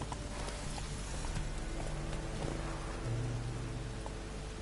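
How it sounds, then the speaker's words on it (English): Horse hooves clip-clop steadily at a walk in The Witcher 3 video game, faint and fairly regular over a constant background wash resembling rain. "Gotta go find our horse."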